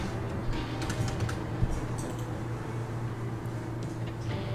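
Computer keyboard keys clack in short irregular bursts as AutoCAD commands are entered, quiet taps and presses with a soft room hum beneath and no speech.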